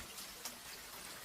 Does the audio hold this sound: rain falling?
yes